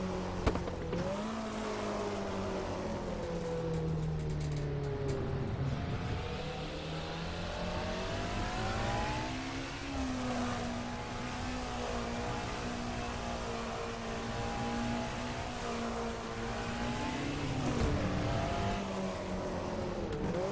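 A race car engine in Assetto Corsa, from a DRM Revival mod car, roars steadily, its pitch climbing and dropping as it revs through gear changes, loud and continuous with no talking.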